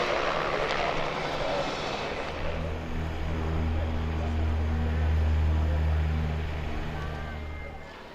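Qantas Boeing 747 jumbo jet roaring past with a loud, sustained engine rumble and broad jet hiss that swells, holds strongly and starts to fade, heard outdoors without any talking.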